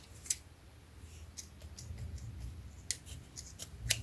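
Scissors snip through paper in a few sharp, separate cuts at close range, laid over a low room rumble, with no voices.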